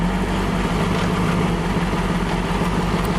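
A car engine idling steadily with a low, even rumble close by, no voices, just the continuous mechanical hum.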